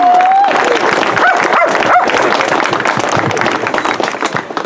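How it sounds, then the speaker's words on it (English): A crowd at a gun rights coalition lobby day breaks into a round of applause: dense, sustained clapping that stays loud throughout and thins slightly at the end, with a brief whistle or cheer near the start. "Let's give him a round of applause."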